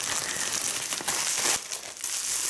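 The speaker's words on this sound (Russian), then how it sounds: "Пупырка!" Bubble wrap from an online marketplace parcel being handled, giving continuous close crinkling and crackling with a few sharper bursts of rustle.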